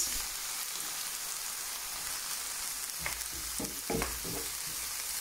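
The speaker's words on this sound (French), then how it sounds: "je vais tout faire revenir jusqu'à ce que ça cuise, jusqu'à ce que mes oignons ils vont cuire" Onions fry in oil in a pan for a Moroccan salmon and shrimp pastilla, giving a steady, even sizzle with a few louder scraping, stirring clatters near the end. No voices.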